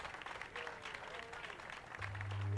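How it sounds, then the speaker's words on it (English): An audience at a sarcoma cure event gives a brief, fairly faint round of applause with steady clapping, and a low tone rises near the end. "Let's give him a nice big round of applause"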